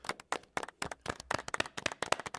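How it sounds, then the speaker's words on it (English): Quiet, polite golf clap from a small group at a casual live show: sparse, crisp individual hand claps in an uneven rhythm, soft and close, with no talking. "give him a golf clap at least"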